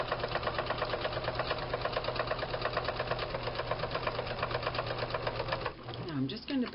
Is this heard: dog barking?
no